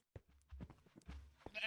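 Sheep in Minecraft bleating in short, quiet bursts, several brief calls scattered across the moment.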